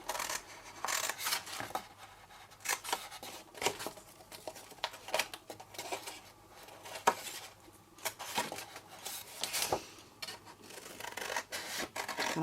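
Scissors snipping through card while a fold flat box is trimmed, a run of short crisp cuts and scrapes close by, irregular and quiet, with brief rustles of the card between snips.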